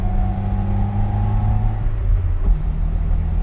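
A Lada 2103 car cruises in fifth gear, its engine a steady close droning rumble with a constant low hum, the pitch dropping slightly near the end.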